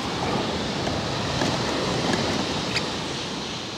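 Strong wind buffets the microphone on stormy Chesil Beach while the sea surges and washes over the shingle, a loud, continuous roar with faint scattered ticks and no speech.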